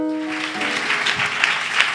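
A church congregation breaks into applause and acclamations, clapping building steadily as a sung or held voice tone fades out at the start.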